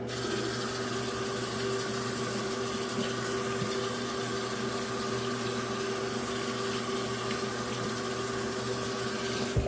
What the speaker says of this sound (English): So I'm gonna get some soap, wash my hands.